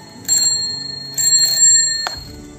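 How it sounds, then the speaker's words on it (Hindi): A child rings a bicycle bell on a small bicycle outdoors, two bright metallic rings close together followed by a third sharp ding, near and clear with no talk. "घंटी बजाओ फिर।"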